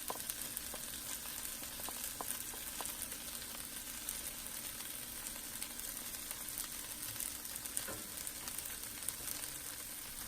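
Onions and fresh thyme cooking in a pan over medium-low heat, a faint, even, continuous sizzle with a few tiny crackles and no talking.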